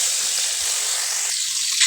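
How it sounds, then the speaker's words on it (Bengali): Potatoes fry in oil with turmeric and salt, giving a steady bright sizzle that stays even from start to finish and carries no voices. "আলুগুলি একই পদ্ধতিতেই ভেজে নিচ্ছি।"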